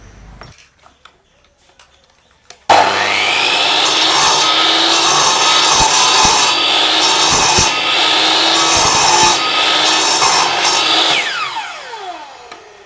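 A nylon wheel being turned on a lathe, cutting in as a loud, steady grinding whine that starts abruptly after a quiet moment, holds for several seconds with a few clicks, then winds down.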